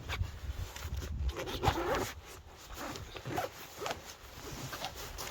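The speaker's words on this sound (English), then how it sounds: "The actual zip comes open at the front." Zipper on the front of a carry bag for a Hill Zero Tower M geodesic six-person dome hot tent being pulled open, a steady close scratchy zipping run in a few strokes with no talk.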